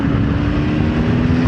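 A CFMOTO 750SR-S motorcycle's engine runs loud and close under throttle in sixth gear near 2,000 rpm, a steady, full rumbling drone that holds evenly with no pauses.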